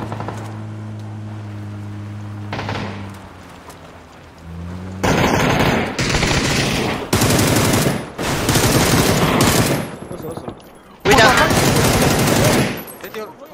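Gunfire rattles in a shooter video game, with several loud bursts of rapid automatic fire separated by short pauses. Quieter tonal sounds come before the first burst.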